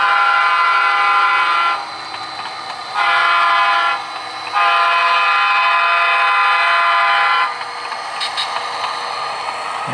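A large model train runs on a layout near an empty yard, its steady mechanical rumble sustained throughout while a horn sounds in repeated long blasts, loud and close, with no talking.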